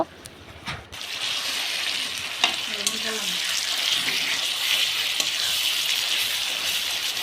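Pastes of garlic, chili, mustard and ground teasel gourd seeds being mixed in a hot pan, a loud continuous frying sizzle with faint scraping strokes throughout after a quieter opening moment; no talking.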